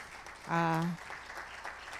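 An audience at a church graduation celebration for the class of 2025 applauds its graduates with steady clapping, while a held voice briefly rises above the crowd.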